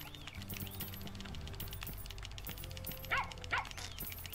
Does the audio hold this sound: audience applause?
no